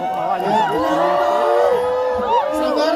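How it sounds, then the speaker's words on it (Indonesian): A lively crowd at an Indonesian televised event cheers and whoops for a contestant named Fitri, overlapping shouting voices rising and falling close by, with little distinct clapping. "Fitri ya, tepuk tangan juga buat Fitri ya."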